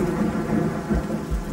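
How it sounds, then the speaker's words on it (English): A thunderstorm with thunder and steady rain near an airport, the rain hissing continuously while two deep rolls of thunder rumble low underneath, loud and close with no voices. "it appears we have a second part of this storm moving through"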